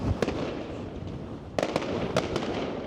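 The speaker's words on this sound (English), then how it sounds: "we've got fireworks going off" Fireworks bursting over Blackpool Promenade on New Year's Eve, a series of sharp cracks and pops at irregular intervals, with a clustered volley near the end over a steady crowd-and-street rumble.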